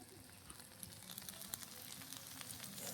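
An egg fries in a pan alongside chowmein, giving a steady, soft sizzle with scattered crackles and pops throughout, close by and alone, with no talk.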